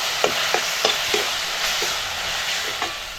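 Ginger, garlic and coriander paste sautéing in a pan, a continuous loud sizzle with a steady series of spatula scrapes and taps about every third of a second.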